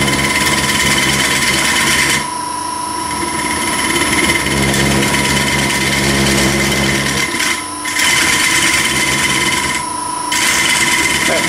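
A loud, continuous whirring power sander runs close by on the inside of a segmented wooden bowl spinning on a lathe, its pitch and grinding texture shifting as it presses and lifts off.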